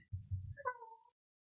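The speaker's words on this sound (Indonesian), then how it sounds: "Kucing. Ada kucing di sini." A cat gives a single short meow, heard close and fairly quiet right after a brief low thump.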